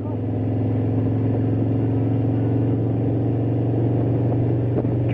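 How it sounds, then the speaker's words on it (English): Road traffic passes near a motorcycle camper, heard as a steady, loud low rumble of vehicles with a faint clatter near the end and no talking. "Traffic."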